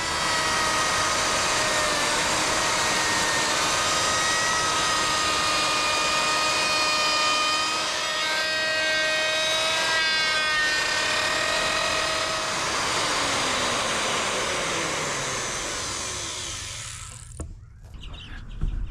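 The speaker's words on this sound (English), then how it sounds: "Next, we're going to get our router and we're going to add a beveled edge, also known as a chamfer bit" Router with a chamfer bit cutting a beveled edge on a wooden subwoofer box, a loud sustained high whine with shifting tones as it feeds along, then spinning down and stopping near the end.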